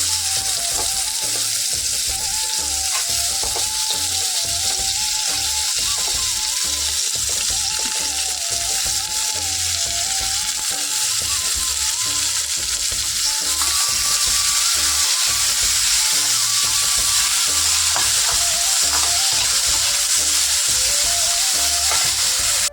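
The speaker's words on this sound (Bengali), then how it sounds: "চাটনিটা বসিয়ে দিচ্ছি চাটনিটা করে নেবো" Chutney cooks in a pan on a home kitchen stove with a constant, even sizzle and bubbling, accompanied by occasional stirring and a faint wavering tone in the background.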